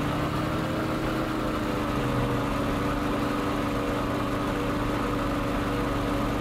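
A Spitfire engine at full throttle in a flight combat video game, a continuous heavy droning roar with steady low rumble, unbroken throughout and no voices.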